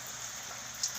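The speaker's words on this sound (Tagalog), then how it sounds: "Ngayon ulan na lang." Steady rain pouring during a typhoon, a soft continuous hiss of drops falling on surfaces, faint and unbroken, with no voices.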